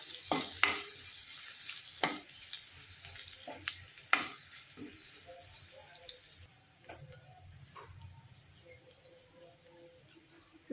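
Garlic fries in a pan until reddish for a Marathi watermelon-rind vegetable dish, giving a soft sizzle under occasional sharp stirring clicks and taps that fade into a quieter, steadier fry.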